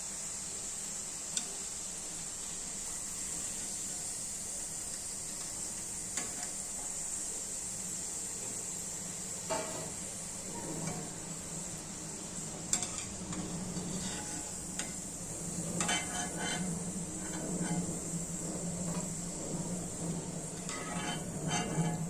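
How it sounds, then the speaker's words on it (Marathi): French fries deep-frying in hot oil, a continuous, even bubbling hiss heard quietly and alone, with a few scattered clicks and utensil taps. "उरलेले फ्रेंच फ्राईज आहे ते फ्राय करून घ्यायचं."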